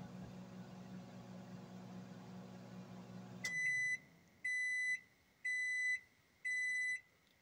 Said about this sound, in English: So it's like my other microwave, same beep.